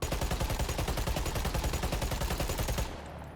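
AK rifle fire in the video game Killing Floor 3: a loud, sustained fully automatic stream of rapid, evenly spaced shots lasting about three seconds, then stopping abruptly into a short tail.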